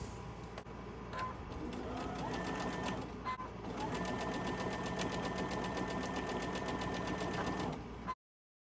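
A sewing machine chain stitching quilt pieces runs in a fast, steady mechanical whir with rapid needle ticking, pausing briefly a few times before stopping abruptly.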